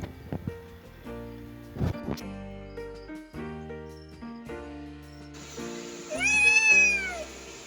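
A Far Eastern cat meows in a string of close, loud, tonal calls, some short and some drawn out, ending in a higher, wavering squealing cry.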